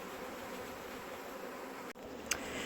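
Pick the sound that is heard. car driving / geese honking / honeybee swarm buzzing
honeybee swarm buzzing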